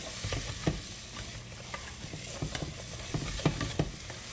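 Mushrooms fry in olive oil in a pan with a steady, close sizzle, broken by irregular soft stirring scrapes and light clicks of a utensil.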